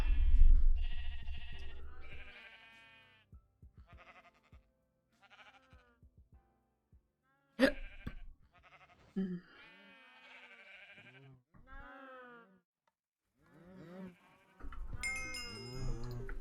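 Sheep in modded Minecraft give several short, wavering game bleats, singly and in overlapping bursts, with quiet gaps and some low thumps between calls.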